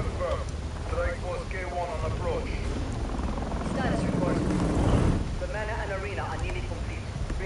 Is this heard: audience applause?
no